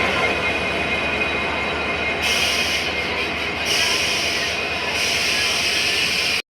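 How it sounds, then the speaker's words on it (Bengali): A local train pulls out of Howrah station at night, a loud, continuous rumble and hiss of rail cars rolling nearby, steady throughout. "হাওড়া স্টেশন থেকে এই ট্রেনটি একদম রাইট টাইম তার নির্ধারিত সময় রাত্রির 11টা বেজে 20 মিনিটে একদম রওনা"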